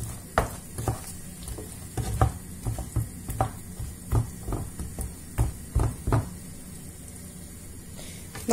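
A spoon stirs caramel for praline in a pan over low heat, giving irregular soft scrapes and taps over a faint continuous sizzle, close but quiet, with no talk.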